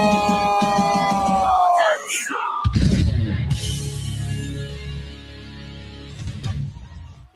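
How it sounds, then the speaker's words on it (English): An announcer's voice gives way to a loud, roaring esports arena crowd cheering and yelling at the M7 Mobile Legends World Championship lower bracket finals, a thick wall of sound that swells and persists. "You can feel and hear the excitement of the crowd"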